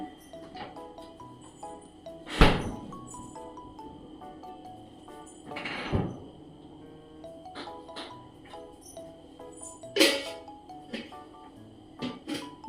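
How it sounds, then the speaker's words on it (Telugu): Several loud thumps and clatters of a refrigerator door being shut and opened, spaced a few seconds apart, over faint background clinking. "ఈ డోర్ బాగా సౌండ్ వస్తుందండి ఒకసారి వేసేసి మళ్ళీ తీద్దాం"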